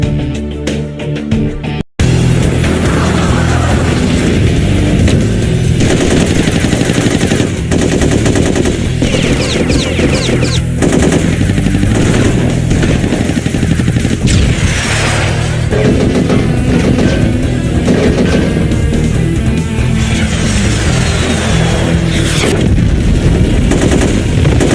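Sustained machine gun fire in the 2003 game Mission Impossible Operation Surma, loud dense bursts and booms after a brief pause near the start, continuing relentlessly throughout.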